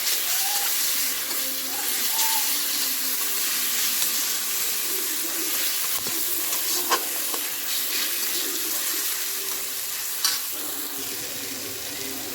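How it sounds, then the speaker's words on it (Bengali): Garlic paste sizzles in hot oil with browned onions while a spoon stirs and scrapes the pan, giving a steady close frying hiss with occasional sharp clicks. "রসুনের পেস্টটা দিয়ে দিলাম, ভালো করে মিক্স করবো"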